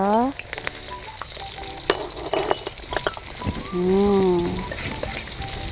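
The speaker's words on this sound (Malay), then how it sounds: "sekarang bolehlah kita tumis kita punya bawang tadi, bawang putih dengan bawang merah" Garlic and shallots sizzle in a hot wok while a utensil scrapes and clanks against the metal in irregular strokes, with a brief tonal sound near the end.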